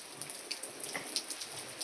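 Rain falls on a residential street, a soft continuous hiss scattered with light droplet ticks, faint and distant with no voices.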